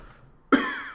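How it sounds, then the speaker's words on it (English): A ship's captain coughs once, a single sharp, close, harsh cough with a rough tail, after a brief moment of near quiet. "as you get close, you can hear him coughing"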